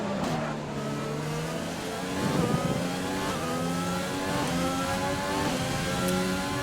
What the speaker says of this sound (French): Passe à un régime moteur supérieur.